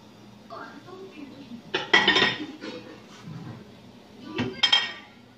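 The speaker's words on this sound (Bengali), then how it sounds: "তো এটার মধ্যে আমি নোংরা থালা বাসন একটা একটা সাজিয়ে রাখবো।" Dirty dishes and utensils being loaded one by one into a dishwasher, with a few sharp clinks and clatters of plates and cutlery rising out of quieter handling noise and a voice speaking.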